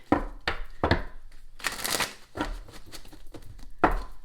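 Tarot cards are shuffled by hand up close in repeated soft riffling bursts with papery rustles, a longer flurry in the middle, quiet throughout.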